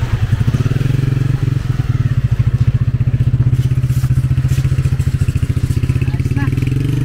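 The electric motor of a DIY automatic sliding gate runs during a test, a loud, steady, rapidly pulsing mechanical chug close by, with a voice speaking over it.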